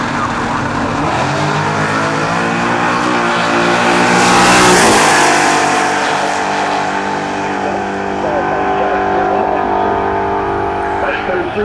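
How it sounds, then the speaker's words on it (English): A Chevy S10 race car engine roars loudly at close range, pitch climbing and swelling as it passes around the midpoint, then holding a steady drone, with announcer speech and crowd noise mixed in. "How about this good-looking Chevy S10 over here in the appliance direct lane?"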